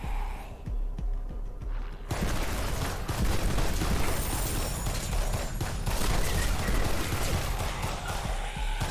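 Rapid gunfire spraying bullets in the VR zombie shooter game Exterminate, a dense burst of overlapping shots that kicks in after a quieter couple of seconds and keeps hammering loud and close to the end.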